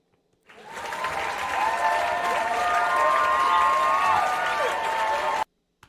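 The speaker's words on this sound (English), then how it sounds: "I guess we'll give that some applause" Applause from a crowd, a dense, steady wash of clapping that swells in, holds evenly for several seconds, and cuts off abruptly.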